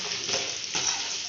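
Mustard seeds, urad dal and garlic sizzle and fry in hot oil for lemon rice, a steady, close crackling hiss with brief stirring scrapes.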